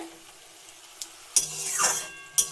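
Spice paste stirred into a Bengali rohu fish curry with winter greens and vegetables: a few sharp spoon scrapes and clinks against the pot over a soft sizzle, close and fairly quiet, with no talking.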